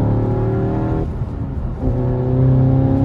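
A 300 hp Skoda Octavia RS accelerates on a straight road. The loud, steady engine drone dips briefly, then swells again with rising tone, heard close from inside the car.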